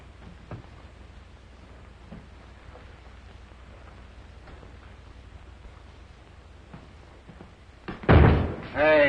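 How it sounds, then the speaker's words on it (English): After a quiet, faintly rumbling interior scene in a 1938 Western film, a door slams loudly and close by near the end, followed by a second heavy bang. "Hey, careful of that door. You make my muffins fall."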